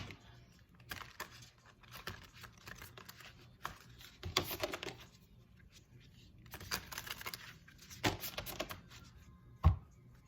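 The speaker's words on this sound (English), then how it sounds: "These are always so hard to shuffle, so I just kind of do it like this." A deck of oracle cards is shuffled by hand in uneven bursts of soft shuffling and tapping, close and quiet, with short pauses between bursts and a sharp tap near the end.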